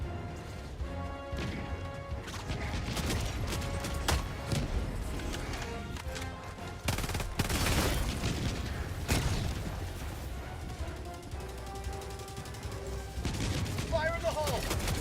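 Grenade blasts and gunfire in Helldivers 2 make a constant, loud barrage of crashes, sharp shots and impacts, with heavier hits standing out from the din.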